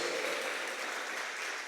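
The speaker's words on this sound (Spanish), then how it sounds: "Dale un aplauso fuerte a Jesús, el Rey de Reyes y Señor de Señores." Church congregation at a pastoral appreciation service applauding Jesus: an even, continuous wash of many hands clapping, heard at a distance and fairly soft.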